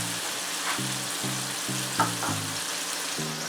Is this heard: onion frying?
yes